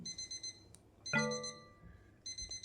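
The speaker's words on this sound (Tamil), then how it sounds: "அலாரம் வச்சு எந்திரிச்சாச்சு" An electronic alarm clock in the video game Open House beeps in rapid repeating bursts, pauses for a brief ringing tone, then resumes its beeping pattern; loud and close, no talking.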